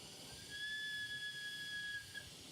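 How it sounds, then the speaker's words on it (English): A thin, steady high whistle from a glass tube being burned off in a glassblowing flame holds for about two seconds over a faint hiss, ending with a brief clunk. "Oh, got a little whistle there,"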